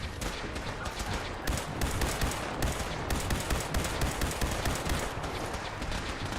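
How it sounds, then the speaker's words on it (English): A super mutant fires a minigun in Fallout 4, a dense unbroken stream of rapid shots rattling steadily throughout with no pauses. "The super mutant has got a minigun!"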